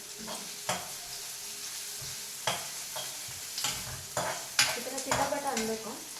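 Chopped onions crackle and sizzle in hot ghee for a chicken pepper ghee roast, with steady close frying noise broken by sharp bursts of spatter and scraping stirs.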